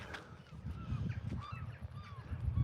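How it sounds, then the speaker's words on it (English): Several birds give goose-like honking calls, a scattered series of short honks at moderate distance over low rumbling background noise. "And then you get a crow of the birds."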